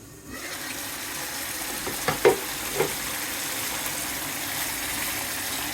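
Mustard hilsa fish curry simmers covered in its broth, a steady low bubbling hiss with a couple of faint clinks partway through, no voices.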